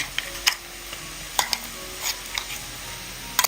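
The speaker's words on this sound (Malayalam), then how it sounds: "എന്നിട്ട് മസാലയുടെ പച്ച ടേസ്റ്റൊക്കെ ഒന്ന് മാറി കിട്ടുന്നവരെ 1-2 മിനിറ്റ് ഒന്ന് ഇളക്കി കൊടുക്കുക" Ground masala paste being stirred with softened onions in a pan over low flame, with scraping spoon strokes and soft sizzling, a few sharp clicks scattered through, fairly quiet and without voices.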